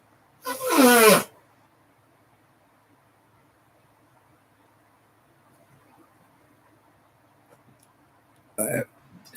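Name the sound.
burp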